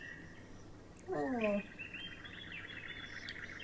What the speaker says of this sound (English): Hey, crows up in the trees.